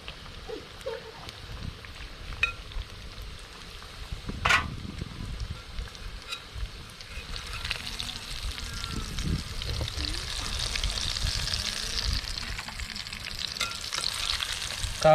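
Chicken pieces deep-frying in hot oil for a crispy chicken dish, a steady crackling sizzle with one sharp clatter near the start, the frying growing denser and louder toward the end; no talk.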